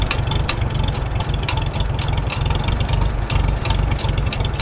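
A Farmall H tractor engine runs steadily at idle, a loud, close, low, even throb with a regular chugging pulse and no talk over it.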